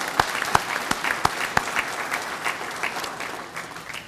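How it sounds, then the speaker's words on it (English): An audience at a Veteran's Day ceremony breaks into warm applause, a dense, fairly distant patter of clapping with a few louder claps up front, fading gradually. "Let's give her a round of applause."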